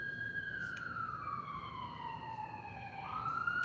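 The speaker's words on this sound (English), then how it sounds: "can you hear the sirens?" A siren wails in the distance, its pitch sliding slowly down and then jumping back up, over a low steady background rumble.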